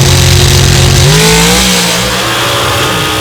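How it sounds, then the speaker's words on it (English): Drag race cars with a 632 cubic inch Ford and a big block Chevrolet roar very loud side by side, engines revving hard and climbing in pitch together. "This Tony Bischoff 632 cubic inch Ford engine, side by side with that massive big block Chevrolet in the left lane of Kelly Albertson."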